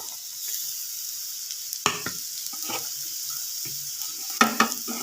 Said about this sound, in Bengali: পেঁয়াজ কুচিও দিয়ে দিলাম। এবার একটু ভেজে নেবো